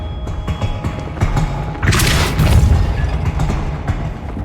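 A single deep, booming blast from the Depulso spell in the video game Hogwarts Legacy, bursting out midway over a low rumbling game background and fading gradually.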